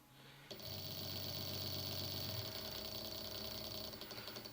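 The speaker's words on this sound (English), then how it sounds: "Let's put it in forward position, so it should go counterclockwise." An electric quad bike motor kit running on 54 volts starts up and spins steadily in forward, a continuous whirring whine with a low mechanical rattle, close and constant.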